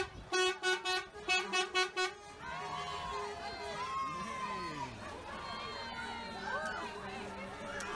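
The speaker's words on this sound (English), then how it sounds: "that was a lovely honk by the truck driver" A truck horn blares in a rapid series of loud honks at a carnival parade, then gives way to a busy crowd, chatter and street noise.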